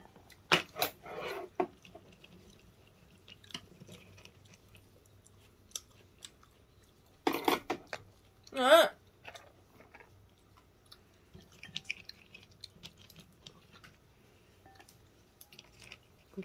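Chewing while eating breakfast, with a few scattered bursts of crunchy chewing and biting amid long quiet stretches, plus small faint clicks and knocks nearby, close to the microphone and with no talk.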